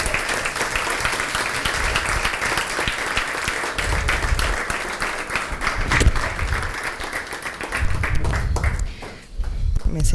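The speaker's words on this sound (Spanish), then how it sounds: "quiero pedirles que le den un fuerte aplauso a mis invitados de esta noche" Studio audience applause and clapping for two guests at a talk show taping, steady and dense for about ten seconds with a brief dip near the end, a voice speaking faintly underneath.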